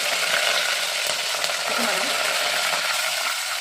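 Fenugreek, mustard seeds, urad dal, vadagam and curry leaves crackling in hot oil for kara kuzhambu, an unbroken loud sizzle up close with faint scattered pops.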